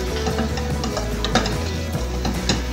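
Ginger and garlic fry in a pan on a low flame, giving a continuous close sizzle, while a spoon stirs them with repeated scraping strokes and occasional knocks against the pan.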